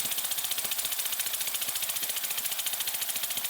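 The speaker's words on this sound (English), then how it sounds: "It actually sounds like an internal combustion engine." A 3D-printed Wankel rotary engine driven by compressed air at 5 psi runs steadily with a fast, even chuffing pulse, close and continuous, resembling a small combustion engine idling.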